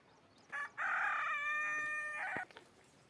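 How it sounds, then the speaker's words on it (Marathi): A rooster in a village poultry shed on a goat and country-chicken farm crows once, a long, loud, close call rising and holding before trailing off, with no other sound around it. "हा माझा कोंबड्यांचा गोठा आहे."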